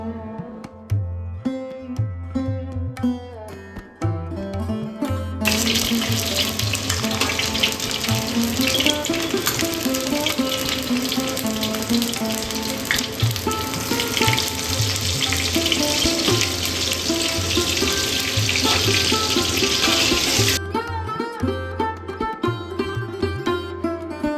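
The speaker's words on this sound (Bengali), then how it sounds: "তেলটা একটু গরম হলে তাতে দিয়ে দেব ডুমো ডুমো করে কেটে রাখা মাংসের আলুগুলো দিয়ে পরিমাণ মতো নুন হলুদ দিয়ে সুন্দর করে ভেজে তুলে নেব।" Cubed potatoes with salt and turmeric hit hot mustard oil for mutton kosha, setting off a loud, dense sizzle that holds steadily for about fifteen seconds, with music heard before and after.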